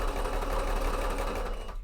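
A sewing machine runs steadily and loudly through a cape mock-up, one continuous close burst of stitching with a constant motor whir.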